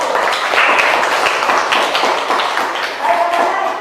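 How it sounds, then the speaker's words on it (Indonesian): A classroom group gives a round of applause for a presenting team: dense, steady clapping from many hands, fairly loud and close, lasting throughout. "Berikan tepuk tangan kepada kelompok 1."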